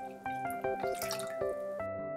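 Water poured into a Peppa Pig toy pool, giving a short run of drips and splashes in quick irregular succession, close and fairly loud, with no voices.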